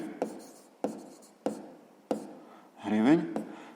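A pen scratches on paper in a sixth-grade maths exercise, several short strokes in a steady rhythm, close and fairly quiet, ending in a longer scribble; a voice is not heard.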